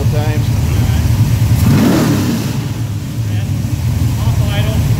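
An all-aluminum Pontiac 522 cubic inch street engine running on pump gas, revved once off idle with a deep rising roar that swells and falls back to a loud, rumbling idle.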